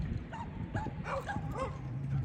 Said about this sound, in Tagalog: May aso padala.